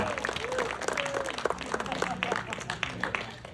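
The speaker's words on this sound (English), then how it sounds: "Let's give a round of applause for the smart guy." An audience at a 50th birthday roast claps and cheers for a guest, with scattered hand claps and crowd noise at moderate distance, mixed with voices and a brief whistle.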